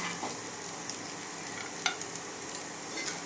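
Semolina pulao being stirred in a hot pan with fried nuts mixed in, a constant soft sizzle with a few scraping clicks of the spoon, close and steady, no talk.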